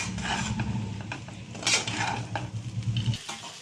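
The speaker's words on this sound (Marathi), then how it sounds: "तर आता छान असं हे परतून घेऊया आपण" Leftover chapati poha with turmeric, crushed peanuts and coriander is stir-fried in a pan, a spoon scraping and clinking against metal over a low, steady sizzle.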